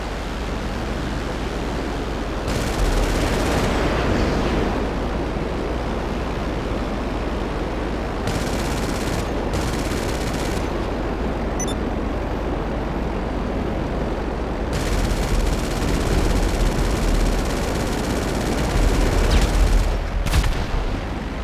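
Gunfire in GTA Online, dense and noisy, coming in sustained loud bursts separated by slightly quieter stretches, with no talking.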